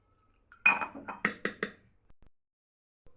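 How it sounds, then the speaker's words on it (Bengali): Spoon knocking and scraping in a bowl while spice batter is mixed with a little water, a quick run of close clinks and taps that fades out, with one last tap. "একসাথে ভালো করে মিক্সড করে নেব। সামান্য জল দিয়ে মিক্স করব।"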